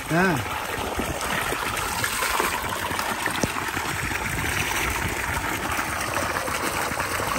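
Water from a motor pump runs along a garden channel past vegetable plants such as brinjal, a steady close trickling stream lasting throughout with little change in level.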